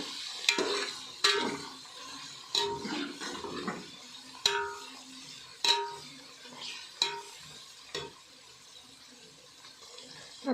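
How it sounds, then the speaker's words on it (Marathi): Green chilli and ginger-garlic paste frying in a pan for chicken biryani, with a soft steady sizzle broken by sharp regular clinks and scrapes of a spoon stirring against the pan, faint and close. "त्याच्यामध्ये आता आपण अद्रक संबाराची पेस्ट टाकून घेऊ"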